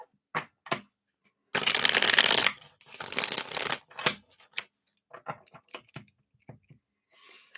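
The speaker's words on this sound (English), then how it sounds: "Let's give these a shuffle here." Tarot cards are shuffled by hand in a few bursts: soft riffling rushes and sharp flicks, with scattered taps and card snaps in between, close to the microphone, with no talking.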